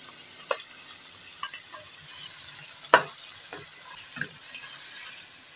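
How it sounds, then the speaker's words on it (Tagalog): Tomatoes sautéing with softened onions in a pan for spicy ginisang kamatis, with a low steady sizzle broken by a few sharp scraping stirs of the spatula, one louder clack near the middle. "ilagay na po natin yung ating kamatis."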